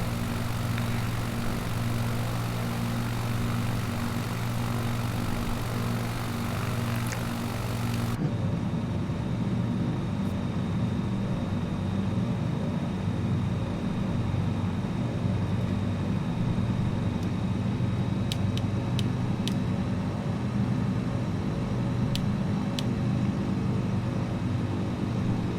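Zlin light propeller aircraft in Microsoft Flight Simulator 2020, flying over a town at sunset: a steady droning engine rumble, loud and constant throughout, with a sudden change in tone partway through and no talking.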